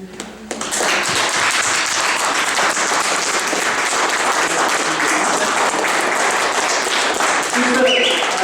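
An audience at a veterans' service awards event applauds county veterans service office representatives, a sustained, loud wall of clapping after a brief quieter start, with voices mixed in toward the end.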